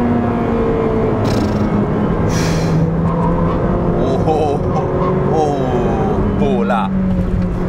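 Ferrari 458 Speciale with its naturally aspirated V8 driving hard, a loud continuous engine drone with rising and falling pitch through gear changes, a voice talking over it throughout.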